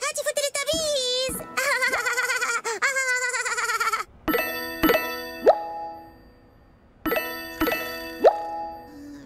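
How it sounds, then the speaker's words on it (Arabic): A Teletubbies toy telephone rings with repeated bright, bell-like electronic trills in two separate bursts, loud and close, after a stretch of high cartoon-style voices. "ثم سمعت لالا صوت رنين. كان هاتف تيليتابيز"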